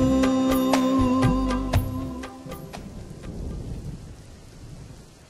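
Steady rain pours down with rolling thunder, a loud tonal rumble dominating the first half before fading into the broad hiss of falling rain, with no one speaking.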